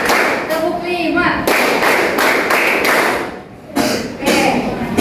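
A classroom of students claps hands in counted groups during a practice teaching session, sharp bursts of many hands separated by brief pauses, with a voice speaking between the rounds.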